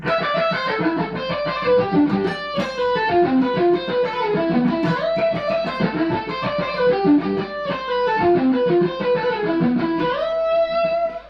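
A distorted electric guitar plays fast, repeating arpeggio runs, cascading up and down through the chord shapes in a steady flowing pattern.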